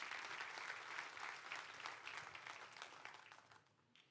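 Church congregation applauding in a steady, dense wash of clapping that holds for several seconds before tapering off, with no talking over it.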